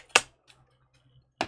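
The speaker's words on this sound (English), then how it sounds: "Let me cut it off real quick with my old stamp cutting scissors" Two crisp snips of stamp-cutting scissors cutting paper, close and sharp, separated by a quiet pause of about a second.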